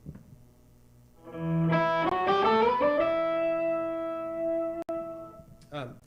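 Guitar with an octave pedal set one octave up, a few quick rising notes settling into a sustained, slightly artificial-sounding tone at moderate volume, followed by a brief pluck.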